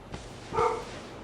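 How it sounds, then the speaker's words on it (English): A single dog bark rises briefly in the middle of a noisy esports stream, a short harmonic yelp over steady background hum. "Shut up, dog!"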